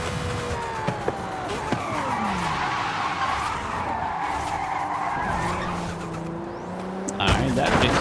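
Tires of a Lamborghini screech and skid through a 360 drift in the Forza Horizon 5 racing game, a continuous loud squeal over engine roar with a sharp burst near the end.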